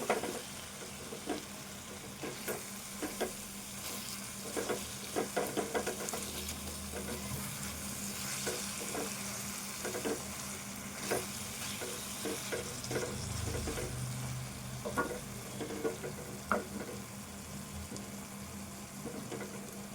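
Ridge gourd and meal maker curry simmers in a pan with coriander added, giving a steady low sizzle and bubbling with occasional stirring scrapes and clinks, close and continuous, no talking.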